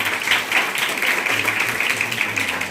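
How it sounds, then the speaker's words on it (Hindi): Students in an audience at a college award ceremony clap together, a dense continuous burst of applause at moderate distance, steady throughout. "बच्चे तालियां हो जाओ।"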